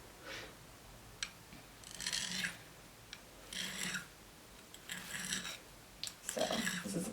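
A knife blade scrapes against a sharpening stone in circular strokes, a soft gritty rasp that comes in repeated bursts of roughly a second each with short pauses between, close but quiet, with no talking.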